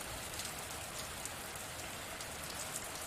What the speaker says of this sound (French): le bruit de la pluie au loin